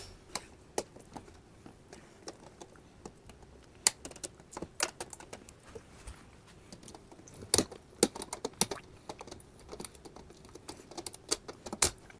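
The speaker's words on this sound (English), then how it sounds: "To proceed, we need to cut the IPM." Pins of a shorted IPM power module are cut on a dead mini split air conditioner circuit board, giving sharp, scattered clicks and snips at irregular intervals, close and crisp over quiet background.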